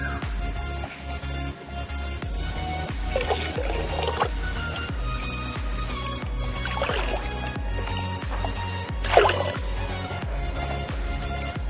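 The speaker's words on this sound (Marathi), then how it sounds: "नंतर त्याच्यामध्ये आपण चुन्याचं जे पाणी आहे ते चुन्याचं पाणी टाकणार आहोत" Lime water poured into a seed treatment mixture, wet splashing and dripping with liquid sloshing at close range, fairly loud throughout, with no talk.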